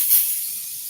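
A single short hiss of aerosol air freshener sprayed indoors, a brief burst of spray close by.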